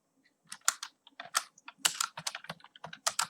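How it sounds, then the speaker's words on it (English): Rapid typing on a computer keyboard while entering a short C programming line, with crisp key clicks in uneven bursts and brief pauses, close and clear with no talking. "So now here you have to type printf"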